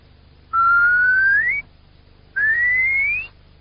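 A human whistle imitates a curlew call: two sustained, rising whistled notes, each about a second long with a short gap between, loud and close over faint background.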